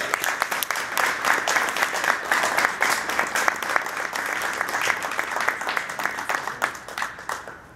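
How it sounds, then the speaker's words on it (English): An audience at a golf awards evening claps continuously for several seconds, a dense, even patter of many hands with no voices on top. "So I want to give you a round of applause."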